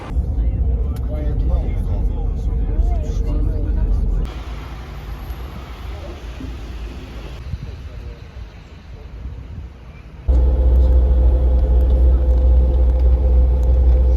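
Inside an intercity bus travelling to Kosovo, a continuous low engine rumble and road noise hum along with wind buffeting. The drone shifts in level across the ride, and muffled voices are faintly audible.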